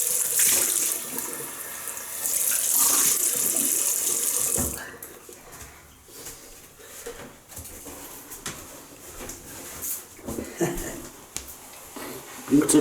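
A tap runs strongly into a bathroom sink for a few seconds for rinsing after a shave, then cuts off, leaving quieter handling noises and someone talking.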